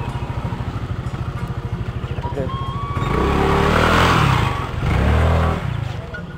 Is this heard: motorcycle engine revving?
yes